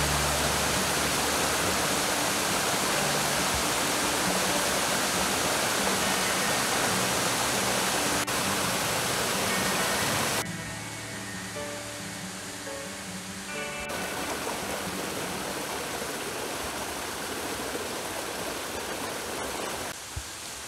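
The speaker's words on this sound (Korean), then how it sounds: "초록빛 숲이 원시림처럼 느껴지고 계곡의 물소리가 너무 시원합니다." A mountain valley stream on Huiyangsan rushes steadily through the forest in a constant, full wash of water, loud and close, with no voices.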